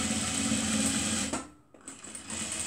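Sewing machine stitching thick, warm scarf fabric, a steady close mechanical whir that briefly slows and pauses before running again.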